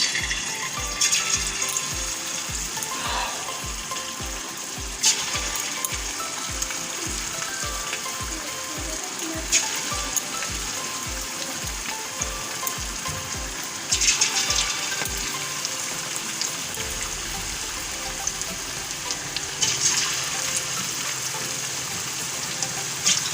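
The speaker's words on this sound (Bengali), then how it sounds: "এবার আমি কড়াতে তেল দিয়েছি। এবার চিকেনগুলোকে আমি ভেজে নেব।" Chicken pieces fry in oil in a wok for chili chicken, giving a steady, close sizzle that runs almost unbroken, with a few brief louder bursts as the pieces shift or are stirred.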